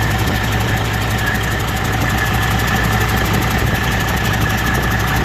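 A 2007 Detroit 14.0L DDEC V 515 HP diesel truck engine with 700,000 miles runs on a test stand, a loud, steady, unbroken rumble with a rapid rhythmic knock and no voices.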